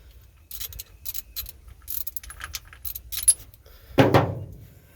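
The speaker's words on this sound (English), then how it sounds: "we are back for some wonderful spark plug wrench removal" Metal clinks and rattles of a spark plug wrench working spark plugs out of a 1947 Ford Super Deluxe engine, a series of close, sharp taps ending in a louder clank.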